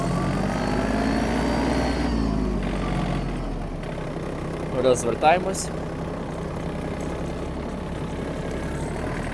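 A Yanmar RS-24 Japanese mini tractor's engine rumbles steadily and revs as it gathers speed, fairly close, with someone speaking briefly over it.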